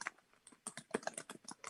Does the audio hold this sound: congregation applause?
no